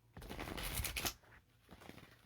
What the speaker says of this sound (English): That's why you don't know how to shuffle cards real good.